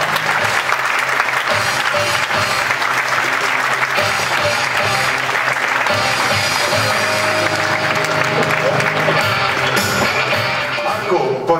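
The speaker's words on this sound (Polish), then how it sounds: "Brawa!" A large audience applauds steadily at the FM Group national conference, dense clapping filling the hall from start to finish with a faint tonal undertone near the end.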